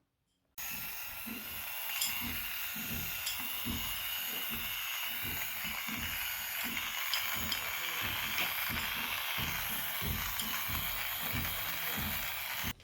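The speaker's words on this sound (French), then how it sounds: "voilà, il va passer au rasoir, celui-là." Electric lint shaver running over a pilled garment, a continuous close mechanical buzz with a regular rapid ticking pulse that starts abruptly and holds for several seconds.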